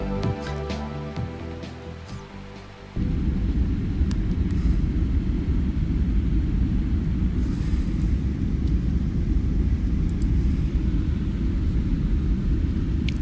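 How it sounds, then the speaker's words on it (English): An airplane ride in flight in the video game Always Sometimes Monsters, heard as a loud, steady low engine rumble and cabin drone that begins abruptly after a short musical passage and continues unchanged. "Lovely plane ride."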